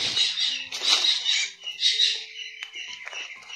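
Birds break into sudden noisy calling, a burst of bright chattering squawks and chirps in quick clustered bursts, fairly close and loud, with no talk over them.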